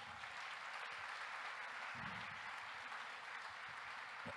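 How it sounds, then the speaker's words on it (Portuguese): A church congregation applauds loudly and steadily during a Portuguese-language sermon, a dense, continuous wash of clapping that fills the space without pause. "eu quero que você aplauda bem forte."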